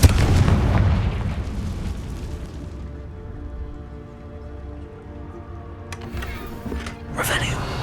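A Confringo fire spell bursts in Hogwarts Legacy with a loud, rumbling boom that rolls and slowly fades over several seconds, followed by fainter crackling debris and a later burst of noise.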